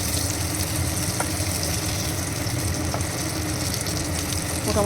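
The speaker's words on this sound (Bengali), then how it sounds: "এদিকে পটলটা ভাজা হচ্ছে," Pointed gourd (potol) frying in hot mustard oil in a frying pan, a steady close crackling sizzle throughout with a couple of faint clicks.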